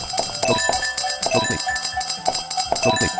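A bright, metallic trash can clanking effect in a video game repeats in quick irregular hits, like a tin lid rattling, over busy game music.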